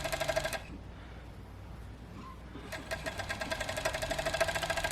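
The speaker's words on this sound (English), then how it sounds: "just finish that edge with a serge" A serger overlocks the raw edge of fabric on a mock fell seam, running in two bursts of rapid, even mechanical stitching separated by a quiet pause of about two seconds.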